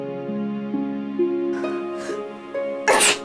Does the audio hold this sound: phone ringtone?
no